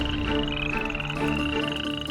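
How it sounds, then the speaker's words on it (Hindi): A frog stuck in a pit croaking in a rapid, continuous trill, loud and close, heard alone without speech. "अरे मेंढक गड्ढे में फंस गया, मैं इसे निकाल देता हूँ।"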